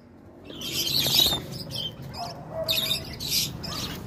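A pet bird chirps in sharp bursts during free-flight training, with several bright, close tweets across the clip and a quieter call near the end, while a person speaks softly underneath.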